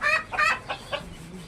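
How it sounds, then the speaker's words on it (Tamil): Black chickens of a parent breeding flock on a poultry farm, clucking in a quick series of four close, fairly loud calls. "இதில் ஒரு 4-5 கருங்கோழி விட்ருக்கேன்"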